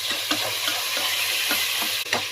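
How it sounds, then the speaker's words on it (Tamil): Mutton frying in oil for a Tamil-style rava mutton biryani, stirred with regular scraping strokes over a continuous loud sizzle, close up and with no voices. "இதை இதில் சேர்த்துடலாம் சேர்த்துட்டு இந்த ஆயிலையும் நல்லா ஃப்ரை பண்ணி விடுங்க"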